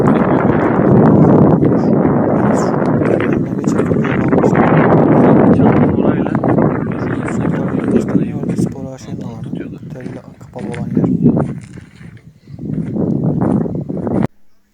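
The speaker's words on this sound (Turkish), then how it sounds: "Burada inanılmaz rüzgar esiyordu" Strong wind roars and buffets the microphone continuously on the shore of Sarımsaklı Dam reservoir in Kayseri, Turkey, a loud rushing noise that briefly dips near the end before cutting off.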